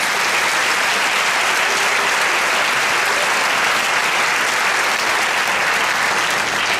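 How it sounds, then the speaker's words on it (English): An opening-day audience claps in sustained, loud applause, a dense and even wash of hands that fills the whole stretch without a break. "How about a round of applause for those?"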